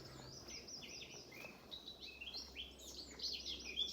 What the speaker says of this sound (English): There's a robin up in the tree.